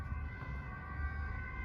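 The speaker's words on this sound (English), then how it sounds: "Excuse the ambulance." An ambulance siren wails outside a vintage greenhouse in Amsterdam, a steady tonal whine heard at a distance over a low rumbling background.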